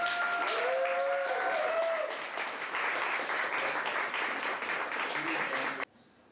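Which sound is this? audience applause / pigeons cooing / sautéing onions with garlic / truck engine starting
audience applause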